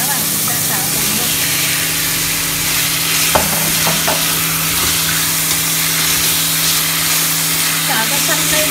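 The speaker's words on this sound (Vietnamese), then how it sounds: "cà chua và sấu vào luôn. Và cá vào chúng ta xào cùng luôn." Fish head stir-fried in a hot pan with tomato and sour sấu fruit for a sour fish soup gives a steady, loud sizzle throughout, with a few sharp utensil clinks near the middle.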